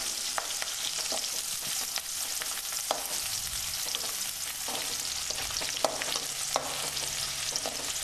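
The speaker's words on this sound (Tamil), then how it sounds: "போட்டு இதை கொஞ்சம் நல்லா வதக்கிக்கிறோம். இந்த பொடி வெங்காயம் எண்ணெயில் வதங்கிறதுனால அது ஒரு தனி டேஸ்ட்டு மீன் குழம்புக்கு கொடுக்கும்." Chopped onions and chillies sizzle and fry in hot oil for a village-style fish curry, with steady close crackling throughout and occasional sharp clinks and scrapes of a stirring spoon against the pan.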